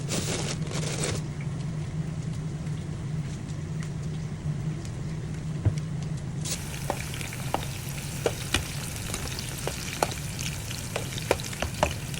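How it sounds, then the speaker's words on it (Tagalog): Sliced eggplant frying in a pan, a continuous close sizzle dotted with sharp pops and spatters that grow more frequent partway through. "ipiprito naman na natin yung eggplant o di kaya yung talong natin na nahiwa natin kanina"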